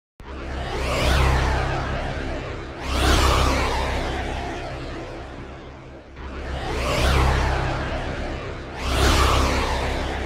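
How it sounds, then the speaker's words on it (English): A synthesized pipe-organ tone generated by Transformizer tracks a master sound, swelling in four broad, sweeping whooshes with a low sustained drone, each surge rising then fading, with no speech. "Let's hear what it sounds like when the pipe organ tracks the master sound."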